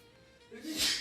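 A single sharp sneeze bursts out near the end after a quiet moment, close and loud.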